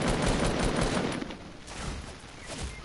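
Rapid video game gunfire strikes the player in a dense, continuous burst of crackling shots, fairly quiet and steady throughout with no talk.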